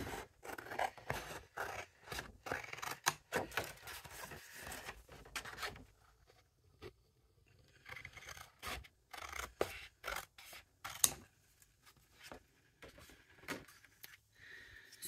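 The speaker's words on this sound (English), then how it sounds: "I'm going to cut this paper the same size because I want it to line up" Paper being cut to matching size with scissors for a card-making craft project, a series of close crisp snips and rustling scrapes, irregular in rhythm with short pauses between cuts.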